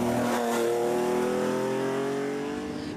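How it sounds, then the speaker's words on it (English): A Porsche 911 historic rally car driven by Monaghan's Brendan McAree on a stage of the Killarney Historic Rally, its engine loud and close, the note climbing steadily in pitch under hard acceleration with no talk. "Always a welcome sight and sound on the stages is the Porsche 911 of Monaghan driver Brendan McAree."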